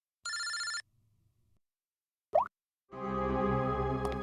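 A telephone rings in a short electronic burst, falls silent, then rings again in a longer sustained tone with a brief plop-like blip between, close and clear with no talk over it.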